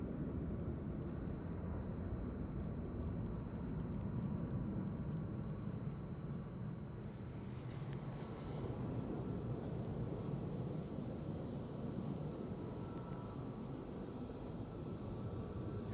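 EasyJet airliner on final approach to Edinburgh Airport, a steady broadband jet roar holding at an even level throughout, distant rather than close, with no talk over it.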